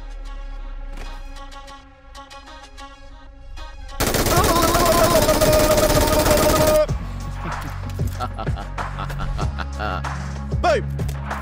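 MG3 machine gun firing in the video game PUBG, a loud sustained burst of rapid automatic fire lasting about three seconds, bracketed by game ambience and someone talking.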